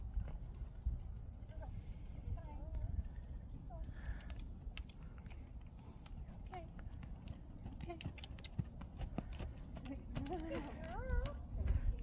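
Ruby the horse trotting, hooves clip-clopping in a steady rhythmic beat at moderate distance, with people speaking softly over the hoofbeats and some background noise.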